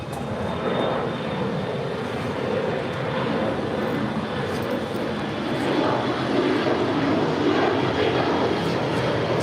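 An Alaska Airlines Boeing 737 MAX 9 in the Orca livery departing LAX, its jet engines a loud, steady broadband roar that holds constant with a faint high whine, no voices.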